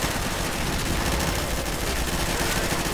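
Dense, continuous automatic gunfire from Counter-Strike: Source in a Zombie Escape round, many rifles firing together as a loud, unbroken rattling barrage.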